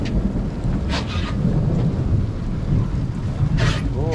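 Thunder rumbles low and continuous beneath steady rain during a lightning and hail storm aboard a North River 25 Hawk boat, with sharp crackling bursts of strikes near the start and end.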